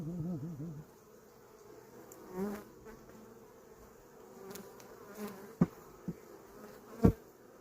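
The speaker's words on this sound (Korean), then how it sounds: "벌이 다 흩어진 거죠." Honeybees buzz steadily around an open beehive during a hive inspection, a dense continuous hum with a few louder close passes and sharp handling knocks near the end.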